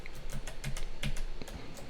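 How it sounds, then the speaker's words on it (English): Fingers type on a computer keyboard in a quick, irregular run of crisp, close key clicks, with no talking. "Typing on the spot always sucks."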